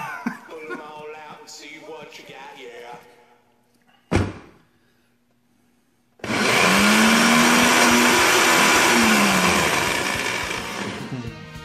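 A kitchen blender running while sapote fruit is blended: a pitched whir and a sharp thump come first, then the motor roars loudly and steadily for several seconds before easing slightly.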